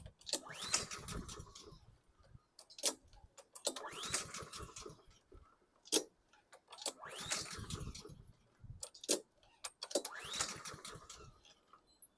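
A 2013 Troy-Bilt TB130 lawn mower engine is pull-started four times without catching: each bright burst of cranking sputter lasts about a second and is separated by short pauses and a sharp click or two.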